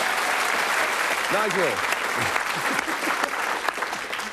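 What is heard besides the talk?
studio audience applause on a TV game show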